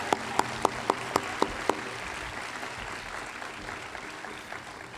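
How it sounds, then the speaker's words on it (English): At an education awards ceremony, an audience applauds the finalists: a few sharp claps ring out, then steady applause carries on at a moderate level. "let's maybe one round of applause for Allison and all the finalists tonight"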